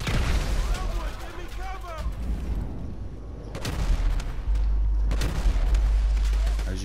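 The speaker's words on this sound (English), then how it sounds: "Handgun's the best one." Handgun gunfire in the GTA 5 Meltdown mission, heard as a few loud booming shots amid dense game noise, with a burst of strong reports near the end.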